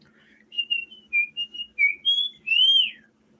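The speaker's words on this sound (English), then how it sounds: "Sorry for whistling." A person whistles a short tune, about eight rising and falling notes over a soft low hum, ending on a long, sliding note.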